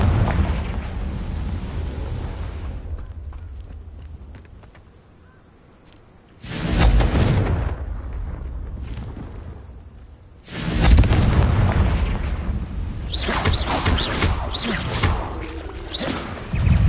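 Loud booming spell blasts from the Confringo curse in Hogwarts Legacy, two heavy bursts several seconds apart, each followed by rumbling debris and a noisy tail, with quieter ambience between.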